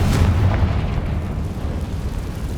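A Confringo spell detonates in the Hogwarts Legacy video game, giving a loud, dense blast with a heavy low rumble that carries on steadily for a few seconds, with no talking.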